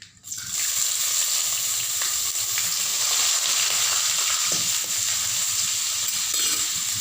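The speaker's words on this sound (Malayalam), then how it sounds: "പച്ചക്കറികളൊക്കെ നല്ല പൊരിഞ്ഞു ഞാൻ എല്ലാതും കൂടി ഒക്കെ ഇട്ട് കൊടുക്കുകയാണ് ഇഞ്ചിയും" Vegetables and ginger fry in a pan with a loud, close, continuous sizzle and hiss that swells up just after the start and holds steady, with no voices.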